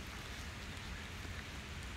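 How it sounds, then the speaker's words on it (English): Rain falls steadily outdoors near a road in the Blue Ridge Mountains, a faint, even hiss with no pauses or voices. "If it stopped raining for a moment"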